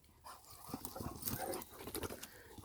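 A Cane Corso dog whimpers and pants close by, with short breathy puffs and whines repeating irregularly, fairly quiet but clear.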